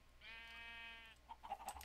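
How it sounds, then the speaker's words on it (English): A cow in the Minecraft modpack FTB Monster gives one drawn-out, bleating moo lasting about a second, followed by a few brief, scattered in-game noises. "I hear a cow."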